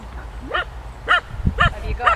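A dog by a river gives four short, close yelping barks with whiny, whimpering tones, evenly spaced about half a second apart.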